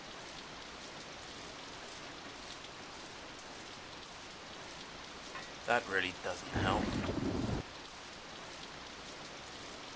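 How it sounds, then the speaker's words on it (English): Rain in the stealth video game Vampire Rain: steady, faint hiss of rainfall running throughout, with someone speaking briefly over it partway through. "we can look at the nice rain effect on the thing"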